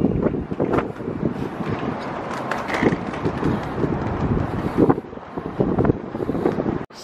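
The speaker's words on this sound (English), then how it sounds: "Still windy." Gusty wind blows hard against the microphone outdoors in Las Vegas, a steady roaring buffet with brief surges and dips that continues throughout, loud and close.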